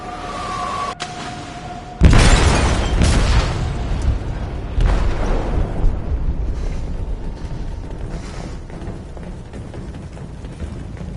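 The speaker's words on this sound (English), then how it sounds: "They detonated an explosive in the hold." An explosive detonates in a ship's hold in the video game Detroit: Become Human, a sudden loud boom followed by a long, heavy rumbling roar that slowly fades.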